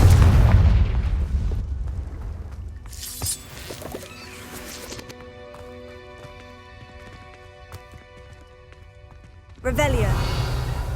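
A Confringo spell explosion in Hogwarts Legacy, a loud fiery burst near the start and another near the end, with a quieter, ringing game ambience between them; a voice is heard in the clip.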